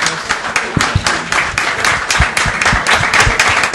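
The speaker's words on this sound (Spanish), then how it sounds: "Les pido un aplauso gigantesco" Applause from a live podcast festival audience, steady overlapping claps with sharp individual hand strikes close by, loud throughout with no talking.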